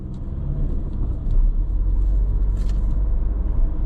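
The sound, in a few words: car driving on after paying a ticket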